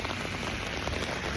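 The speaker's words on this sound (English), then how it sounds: "This has been nothing but rain since yesterday." Heavy rain pours down in a city, a dense, steady hiss of drops striking surfaces close by, with no voices.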